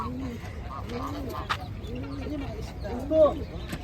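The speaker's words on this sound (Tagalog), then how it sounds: "Ibon to. Kalapate." Pigeons in a pet shop in Kuwait give soft, repeated cooing calls in a steady series, with murmuring people and shop ambience underneath and a slightly louder call near the end.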